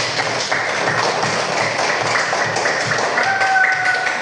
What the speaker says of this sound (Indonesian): Tepuk tangan lagi untuk anak-anakku semuanya